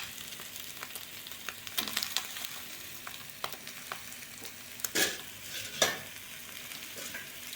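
An egg omelette fries in a pan with a quiet, continuous sizzle, punctuated by occasional scrapes and taps of a spatula as it is turned, close but fairly soft throughout.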